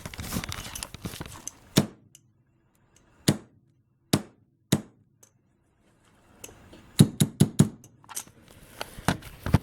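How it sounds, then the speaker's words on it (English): Sharp hammer blows strike a Compaq Presario CQ61 laptop part through a bag, a few isolated hits followed by a faster cluster of impacts, close and crisp with rustling between. "let's get ourselves a hammer here."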